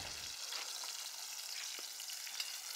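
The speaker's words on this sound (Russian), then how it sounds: "Кабачки жареные." Sliced zucchini frying in a pan at a lakeside camp on Lake Baikal, a steady close sizzle and crackle with a brief stir at the start.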